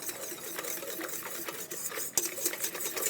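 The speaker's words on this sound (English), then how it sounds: "Then you're gonna whisk it up." Icing for decorated cookies, flavored with butter extract, being whisked in a bowl: a steady, busy scraping whir with small clinks, moderately close and continuous, no talking.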